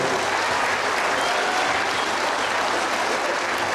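An audience at an award ceremony breaks into loud, sustained applause, dense clapping that fills the room without pause throughout.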